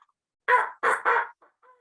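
A person imitates a rooster's crow in three short, bright vocal bursts, followed by a faint trailing sound; otherwise quiet.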